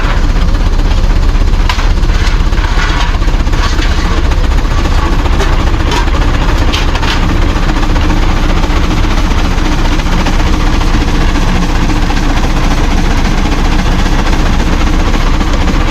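A coal-fired engine runs steadily under heavy prony brake load near 70 horsepower, giving a loud, continuous low rumble and mechanical churn with no break in intensity.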